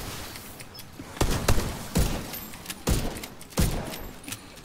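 Gunfire in The Division 2, several sharp bursts of shots landing in uneven clusters at medium distance, with faint background clatter between the volleys.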